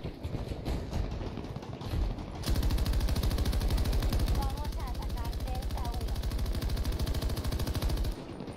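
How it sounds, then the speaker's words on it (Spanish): Sustained rapid automatic gunfire from a military shooter video game, a dense, loud, continuous burst lasting several seconds after a brief quieter lead-in. "Nos ha llevado unos cuantos tiros."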